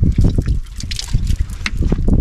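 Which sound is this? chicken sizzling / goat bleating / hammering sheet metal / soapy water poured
soapy water poured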